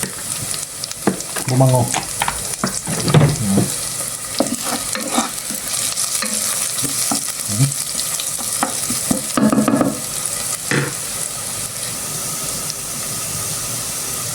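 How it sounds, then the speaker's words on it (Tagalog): Garlic sizzling in a hot pan while being stirred, a steady close fry hiss with scraping stir strokes throughout and someone speaking intermittently over it. "Tuin lang natin ng konti yung bawang para"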